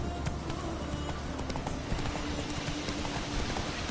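Rapid hoofbeats of the horse Roach galloping in The Witcher 3, a continuous close rhythmic clatter over a dense game soundscape.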